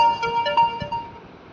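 A downloadable personalised name ringtone plays from a phone, a bright, melodic electronic tune of sustained tones with short pulses, loud and close, fading out at the end.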